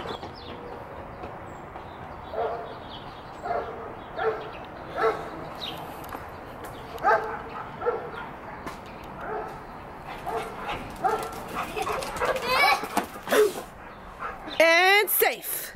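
A dog barks and yips in short scattered bursts at moderate distance, mixed with children's voices and play noise, ending in a louder high-pitched burst.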